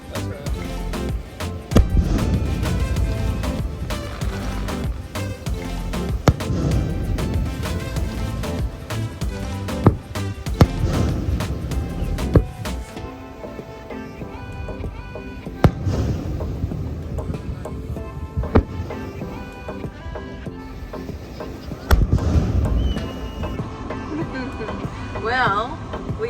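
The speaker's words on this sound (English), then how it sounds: "Most fireworks I've ever seen at one time." Fireworks show at a Japanese beach festival, a long barrage of booming bursts and crackling pops in irregular clusters, heard from a distance with crowd noise and voices mixed in.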